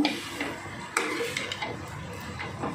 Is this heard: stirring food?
yes